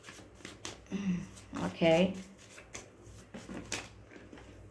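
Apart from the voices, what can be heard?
shuffling playing cards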